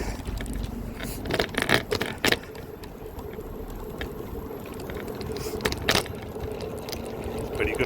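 Steady rolling rumble and rattling of a small rental e-scooter moving over pavement, with occasional louder bumps and clatters, close and continuous.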